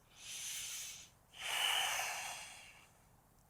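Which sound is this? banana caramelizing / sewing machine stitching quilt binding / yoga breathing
yoga breathing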